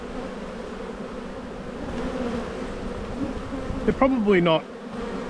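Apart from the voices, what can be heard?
honey bees buzzing at an open hive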